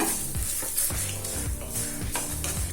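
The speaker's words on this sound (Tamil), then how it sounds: "இஞ்சியை பச்சை வாசனை போக நல்லா வதக்கிக்கணும்" About 50 grams of ginger sautéed slowly in a pan for chutney, a soft sizzle under regular spoon strokes that scrape and tap the pan roughly every half second, close by.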